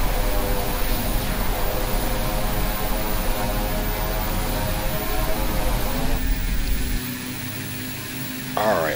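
A simulated Beechcraft 1900D turboprop roars with reverse thrust on the runway after landing in X-Plane 11, a steady loud propeller drone that softens and settles near the end as the rollout slows.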